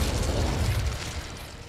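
A deep, rumbling whoosh of the Incendio fire spell in Hogwarts Legacy, a dense low roar with crackling bursts that holds loud and then eases slightly.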